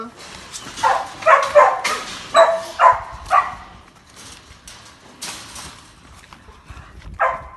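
A dog barks in a quick run of yelps and short whiny barks, then a lone bark follows after a pause, close by.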